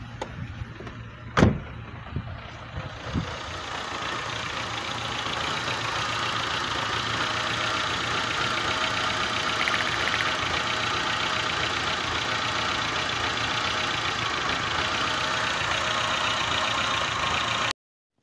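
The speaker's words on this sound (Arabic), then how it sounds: "ما عجبتنيش النغمة تاع الموتور بقات تقطع" A Renault 1.4-litre car engine idles with an uneven, misfiring, faltering rumble, steady and close, after a couple of sharp knocks near the start.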